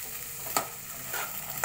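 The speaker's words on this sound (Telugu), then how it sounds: "తాలింపు వేసుకున్నానండి." Tempering spices for a seasoning, fried in a pan, give a steady soft sizzle of hot oil, with a couple of brief scraping stir strokes, close and fairly quiet with no talking.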